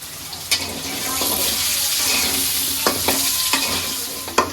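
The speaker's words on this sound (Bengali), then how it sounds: "আলু ভাজার মধ্যে একটু লবণ দিয়ে দিলাম।" Potatoes frying in hot oil with a sprinkle of salt in a village kitchen: a steady close sizzle runs throughout, broken by a few sharp utensil knocks as the pieces are stirred.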